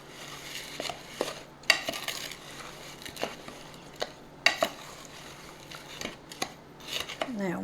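Dry ingredients for s'mores bars, including baking powder and salt, stirred in a bowl, with soft scraping and sharp clinks of a utensil against the bowl in an irregular rhythm, quiet and close.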